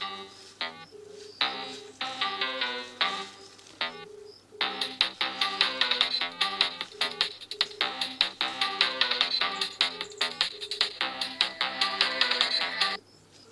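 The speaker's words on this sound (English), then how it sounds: "Okay, now make a call from another phone" Incoming-call ringtone on a Samsung Galaxy S23 Ultra, a bright melodic tune that plays in repeated phrases, briefly pausing then continuing loudly and steadily for over ten seconds with no talking.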